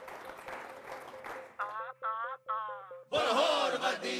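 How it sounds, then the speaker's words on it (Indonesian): At a wedding celebration in an Indian TV drama, a sudden burst of dense applause breaks in after sustained sung music and carries on loudly to the end. "Beri tepuk tangan."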